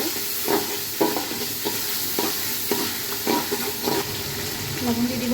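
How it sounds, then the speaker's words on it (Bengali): Ginger-garlic paste fries with onions in oil for a chicken biryani, a loud close sizzle broken by regular scraping strokes of a spatula about twice a second, with no voices. "আদা রসুন বাটাটা প্রথমে একটু কষিয়ে নেব হালকা করে"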